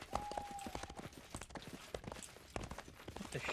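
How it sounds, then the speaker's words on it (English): Hooves of a big horse clop in the fantasy game Pathfinder: Kingmaker, a quick irregular run of soft thuds at moderate distance with ambient game sound around them. "That's a big horse."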